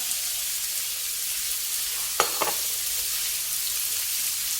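Minced pork and long beans sizzle steadily in a hot pan during stir-frying, a continuous close hiss with two brief scraping stir clicks partway through.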